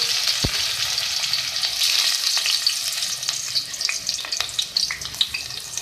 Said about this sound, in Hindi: सबसे पहले हम ऑयल में प्याज ऐड करेंगे।